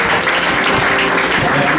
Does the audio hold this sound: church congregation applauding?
yes